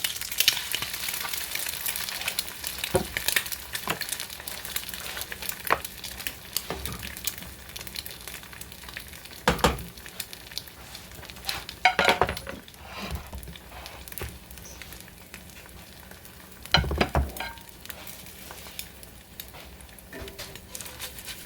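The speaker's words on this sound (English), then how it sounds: "It's going to be a real quick fry on these eggs." Eggs frying quickly in a pan while making huevos rancheros, a soft steady sizzle with scattered crackles and a few louder pops and scrapes, fairly quiet and close, with no talking.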